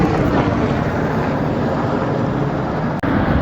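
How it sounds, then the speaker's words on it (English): Loud, continuous rotor and engine roar fills the air, a steady broadband rumble like helicopters passing overhead, with wind buffeting the microphone. "here's some cool military helicopters that flew over me right after"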